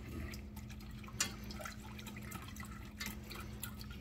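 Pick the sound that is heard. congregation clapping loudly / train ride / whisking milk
whisking milk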